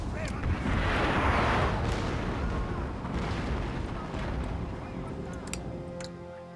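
Cannon artillery fire on a Napoleonic-era battlefield in Napoleon: Total War, a dense, continuous roar of booms and rumbling blasts with distant crackling gunfire underneath, loud throughout.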